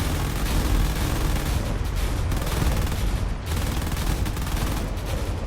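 Turrets fire in the video game Drone Wars as a dense, loud barrage of rapid gunfire and booms, continuous and overlapping for the whole stretch with no voices.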